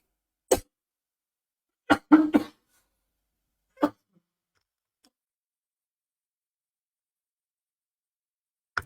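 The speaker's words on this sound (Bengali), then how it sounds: "হঠাৎ করে কাশি উঠে গেল" A man gives a few sharp, sudden coughs, scattered through otherwise near-silent quiet, with a short cluster of two or three bursts in the middle.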